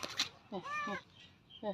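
Several short cat meows, including a drawn-out middle call and a quicker one near the end, sound close and clear against a quiet room.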